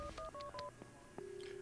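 A phone being dialed in the game Max Payne 2: a quick run of about five keypad tones, each a short beep, followed by a steady ringback tone, all close and clear.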